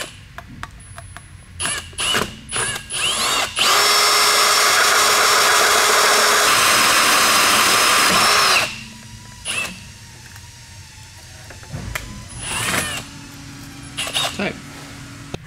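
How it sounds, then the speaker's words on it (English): A power drill bores a pilot hole in a part clamped in a vise, giving a loud, steady whine for about five seconds, with tool clatter and handling noises before and after. "It's got me a little pilot hole drilled in it, and I'm just gonna use it right here on the vise."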